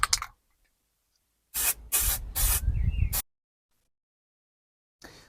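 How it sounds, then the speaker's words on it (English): Silicone spray hissing from an aerosol can onto the boot of a Rover P6, heard as a short burst followed by three longer close bursts, then silence and a brief final puff. "this is what happens when you use silicone sprays on things"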